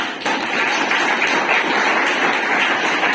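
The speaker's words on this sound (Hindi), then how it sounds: "मैं एक बार पंत जी के लिए भाई जोरदार तालियां" Students at a government inter college NSS camp in Nalapani, Dehradun, applaud a guest, Pant ji, after a talk. Loud, dense clapping from many hands fills the room steadily for the whole stretch, with no speech.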